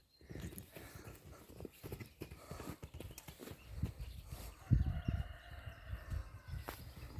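A mare walking in a pasture, uneven clip-clop hoof falls close by, with irregular thuds and rustles throughout.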